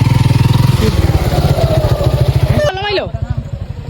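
A motorcycle on the road toward Sada Pathar thumps along in a fast, regular engine pulse, close and loud, easing briefly before picking up again.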